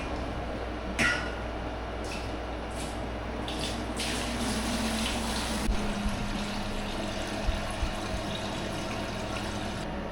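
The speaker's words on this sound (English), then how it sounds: "I've got that milk pail full, or half full, that I'm gonna dump" Milk poured from a pail into a 5-gallon bucket on a small dairy goat farm, a steady liquid rush and splash running through the whole stretch with a few faint knocks.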